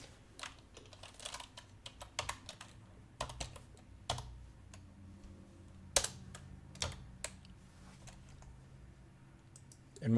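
Keys on a computer keyboard tap out short bursts of quick, close, fairly quiet clicks with pauses between them, one sharper click standing out midway, while charting moving averages on a trading screen.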